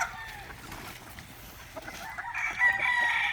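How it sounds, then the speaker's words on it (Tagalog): Young chickens, pullets and stags, cluck and crow close by in short raspy calls that build toward the end into a louder, strained young-rooster crow. "So ito po yung mga pulit natin. May mga stag pang nakasama."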